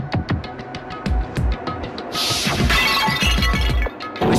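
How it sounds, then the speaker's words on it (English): In a Danganronpa video game, a glass bottle is smashed over a head with a sharp shattering crash and a spray of tinkling fragments, preceded by a series of short rhythmic knocking hits. "I grabbed the Monokuma bottle from the shelf and smashed it across her head!"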